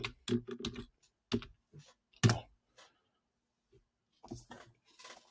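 Quiet keystrokes tap in short irregular bursts with pauses between, close and faint, with no talking.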